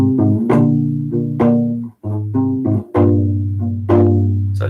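A U-Bass plays a short passage of strums and double stops, sounding as deep sustained notes with sharp strummed attacks, two brief gaps, and no talking.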